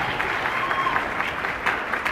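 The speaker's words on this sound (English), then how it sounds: "Now, applaud that." Conference audience at a Black conservative leadership summit breaks into steady applause, dense clapping held at an even level across the whole short stretch with a faint murmur of voices mixed in.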